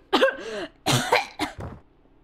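A video game character in Hakuoki: Edo Blossoms coughs violently, three or four harsh, rasping bursts close up, then trailing off into quiet.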